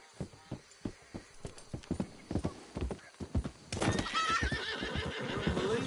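Hooves clip-clop in an uneven rhythm and a horse neighs and whinnies in Red Dead Redemption 2, the hoofbeats growing denser and louder partway through.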